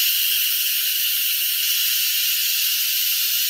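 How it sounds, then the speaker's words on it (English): Loud, steady steam hissing from a pot of mulled wine as pressure is released, a continuous close airy rush that holds without a break, with no voices. "We got to let the steam out."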